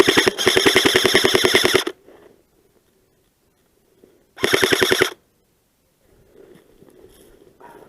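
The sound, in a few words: airsoft guns firing in snowy game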